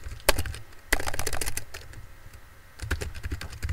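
A quiz question being typed on a computer keyboard, fast bursts of close key clicks separated by a short pause, with no talk.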